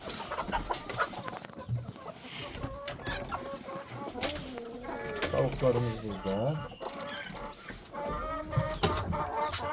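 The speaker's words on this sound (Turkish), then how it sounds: "Burada bir çift güvercinimiz var." Soft cooing of a pair of pigeons repeats close by, mixed with clucking chickens and a voice talking over the birds.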